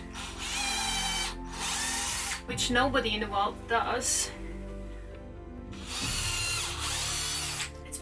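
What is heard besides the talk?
drill pre-drilling nail holes in wood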